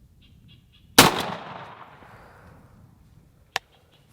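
A Winchester SX4 shotgun fires a 3-inch Premier Magnum turkey load through an Undertaker choke at a 40-yard pattern target, one loud sharp blast with a decaying tail, then a short sharp knock a few seconds later.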